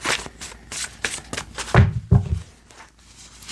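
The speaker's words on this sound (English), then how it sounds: "So I'm going to give it one more shuffle." A tarot card deck is shuffled close up in a quick series of riffling bursts, with a couple of soft thumps as the cards are squared, and no talk.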